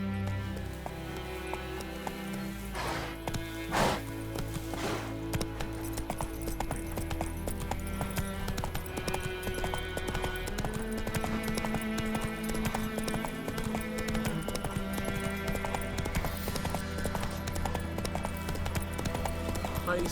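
A horse gallops in The Witcher 3: Wild Hunt, its hooves clip-clopping in a fast, steady rhythm under game music and ambience, with a brief spoken line partway through.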